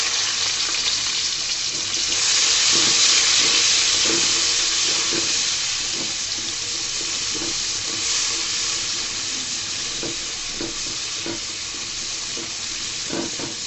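Onions sizzling in hot oil in a pan with garlic for a Bengali aloo potol dish, a steady loud hiss with repeated soft clicks and scrapes of stirring, no talking.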